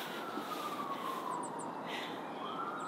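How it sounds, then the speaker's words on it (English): Siren of an emergency vehicle, reported as an ambulance passing near Deep Creek by the Great Dismal Swamp, wailing steadily and moderately loud over a constant background hiss. "It's been quite the active morning with all the ambulances going by."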